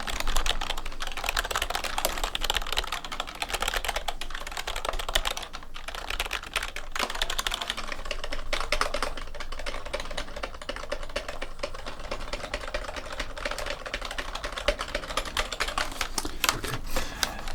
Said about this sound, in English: this is the essential kind of gaming keyboard which you'll just love so much and use repeatedly for your games